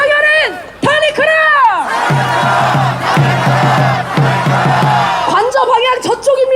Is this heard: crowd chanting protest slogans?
yes